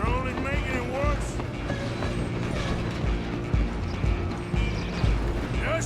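A steam train rolls along in Red Dead Redemption 2, a steady mechanical clatter and rhythmic wheel clicks running throughout under gunfire-era game ambience and brief voices.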